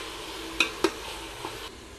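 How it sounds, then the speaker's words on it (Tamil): Onions and ginger garlic paste are being sautéed in a pan for chicken biryani. A soft, low sizzle runs throughout, with a few sharp utensil scrapes and taps against the pan. "இப்போ இஞ்சி பூண்டு பேஸ்ட் நல்லா வதங்கிட்டுருக்கு."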